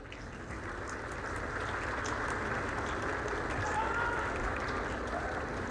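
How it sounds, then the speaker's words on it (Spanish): An audience claps and cheers at a live show in Monterrey, a faint but continuous wash of applause and crowd noise with a low rumble underneath, steady throughout. "Un fuerte aplauso a Marifer."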